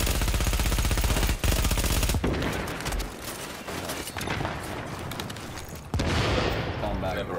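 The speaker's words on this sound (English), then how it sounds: "Guys using a shotgun with explosive rounds, dude" Rapid explosive-round shotgun fire in a third-person shooter set in a ruined city, a dense continuous stream of loud blasts and bursts, with a brief break and another heavy volley near the end.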